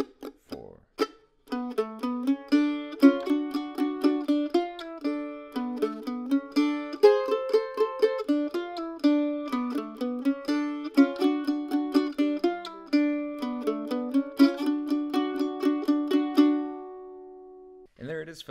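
A mandolin plays the B section of a tune as a lively stream of picked notes, up close and solo, after a short spoken count-in, ending on a ringing final note.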